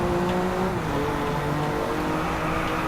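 Car drifting in Driveclub on PlayStation 4 multiplayer, a loud continuous engine roar with shifting revs and tire noise throughout, steady and close with no talk.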